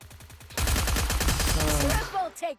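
A loud, rapid burst of close automatic gunfire, shots packed tightly together, tapering off into a few last cracks.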